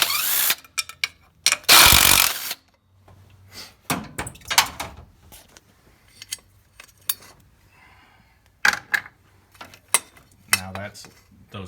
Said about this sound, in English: Now I'm going to unscrew the bolts on this throttle body cable holder.